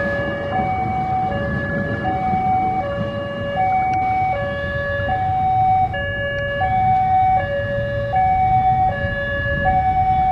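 A railway level crossing warning signal sounds loudly and steadily, a repeating two-tone electronic chime beside a weedy track through plantation land.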